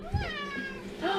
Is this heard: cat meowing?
yes